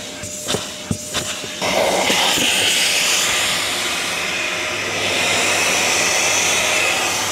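A vacuum cleaner at an electric vehicle charging station roars to life after a few sharp knocks and clicks, then runs as a steady, loud, broadband whoosh for several seconds.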